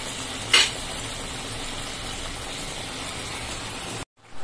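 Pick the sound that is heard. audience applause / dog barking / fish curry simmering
fish curry simmering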